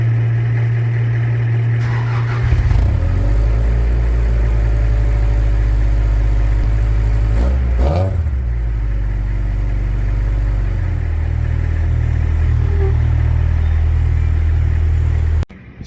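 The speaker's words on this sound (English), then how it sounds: "So while the Samurai warms up" A Suzuki Samurai fuel-injected engine cold-starts with a cranking burst, then settles into a loud, close, steady low idle rumble that runs unbroken for over ten seconds, with a brief rev wobble partway through before cutting off.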